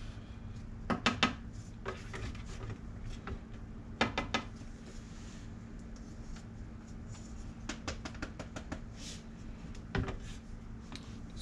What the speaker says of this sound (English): Scooping paint.